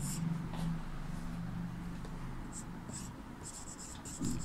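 A pen scratches steadily across paper while an answer is written out for a Class VIII Sanskrit lesson, quiet strokes under a low hum with faint murmuring.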